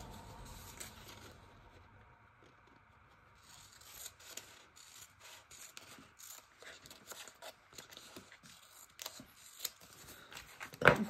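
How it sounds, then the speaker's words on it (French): Scissors snip washi tape and stickers at close range, with faint rustling and cutting sounds, soft crisp clicks and scrapes scattered across a quiet room. "Donc, je vais venir le découper."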